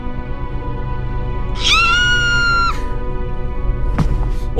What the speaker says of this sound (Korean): 방금 비명소리 너무 인위적인 거 아닌가요?